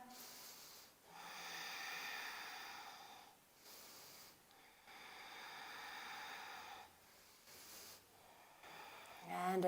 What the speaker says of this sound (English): A few more deep breaths here.